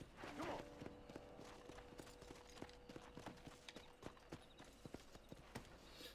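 Horse hooves clip-clop at a steady walking rhythm in the Red Dead Redemption video game, faint and continuous beneath soft background ambience.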